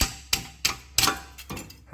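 A hammer strikes a badly rusted rear brake rotor on an Audi A4 in a series of sharp metallic blows, about six hits spaced roughly a third of a second apart, close and loud, with no voices.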